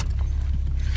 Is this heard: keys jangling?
yes